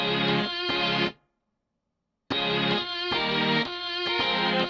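Mellotron sampled violin strings play short repeated chords, dry and upfront with no delay effect, then stop dead for about a second before the phrase resumes.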